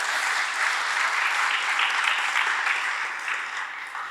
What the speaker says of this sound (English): let's do a round of applause first for the speaker